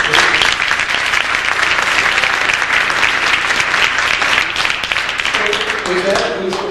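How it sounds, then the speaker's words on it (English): Loud, dense applause from a crowd at the closing of a business case competition, thanking the evening's sponsors, sustained clapping that carries on for the whole stretch and tails off slightly near the end. "So round of applause for our sponsors"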